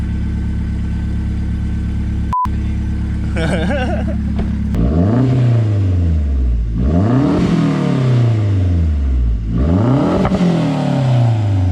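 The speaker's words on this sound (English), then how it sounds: "give it like a little rev" A 2013 Mazda Speed 3 with an aftermarket build idles with a steady low rumble, then blips its engine three times, each rev climbing sharply and falling back, loud and close.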